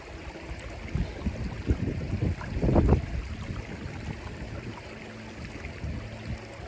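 Water sloshing and swirling in a gold pan as placer gold concentrate is rinsed outdoors, a close, fairly quiet wash of splashing that swells to a stronger surge midway and then settles into gentle lapping.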